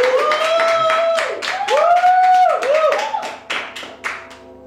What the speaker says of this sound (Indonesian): Langsung saja kita beri tepuk tangan yang meriah untuk Puji.